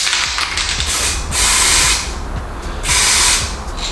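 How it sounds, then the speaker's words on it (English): Two short bursts from an aerosol clear coat spray can hiss loudly and steadily in a wide fan, each lasting under a second, with a faint background hum between them. "if I just give it a tiny spray, I'm not going to give it loads, you'll see that it gives a large fan"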